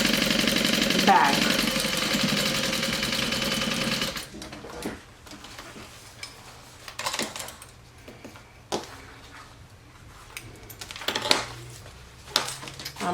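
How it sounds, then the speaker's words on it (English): A sewing machine sewing the sides of a Sallie Tomato SHAW backpack runs in a loud continuous buzz for about four seconds, then gives way to quieter handling clatter and short bursts while a person talks nearby. "I'm assuming I'm sewing the sides right now"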